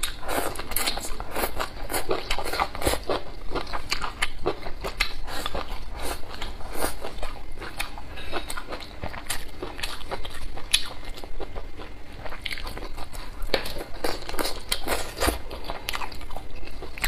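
Close-up biting and chewing of glutinous rice bamboo shoots, with steady crisp crunches and moist mastication sounds repeating throughout, loud and near with no talking.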